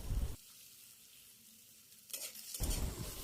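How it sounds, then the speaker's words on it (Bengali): Onion, green chili and turmeric frying in oil give a broadband sizzle, loud at the start, dropping to a low hush in the middle, then swelling back up near the end. "হলুদটাকে একটু তেলে ভেজে নেব যাতে এর কাঁচা গন্ধটা চলে যায়"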